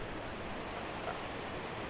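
A waterfall on Grisedale Pike gives a steady, broad rushing roar of falling water, continuous and fairly faint, with no voices.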